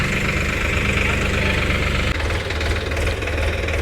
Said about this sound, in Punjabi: ਦੂਜਾ ਟਰੈਕਟਰ ਵੀ ਚੱਲਿਆ ਜੀ ਆਪਣਾ ਇੰਡੋ ਫਾਰਮ 355